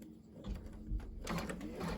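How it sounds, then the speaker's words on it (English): An embroidery machine stitching out a basting stitch on a pillow case, a steady mechanical whirring hum that grows busier and louder after a brief softer start, with no voices. "I'm going to go ahead and let go, and it's going to stitch the rest of the basting stitch out"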